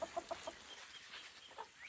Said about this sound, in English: The chickens are happy this morning.